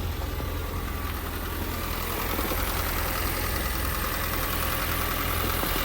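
A Ford Fiesta being rebuilt from a wreck idles just after starting, its engine giving a steady, loud, close-up rumble with an even mechanical clatter and no speech over it.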